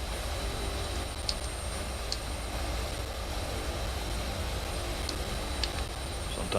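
Hercules aircraft taking off in Microsoft Flight Simulator 2024, a steady loud broadband roar of turboprop engines holding constant throughout, with faint occasional clicks and no talk.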